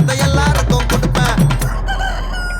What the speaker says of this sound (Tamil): சேவல் சத்தம் ஸ்பீக்கரை பொழக்குது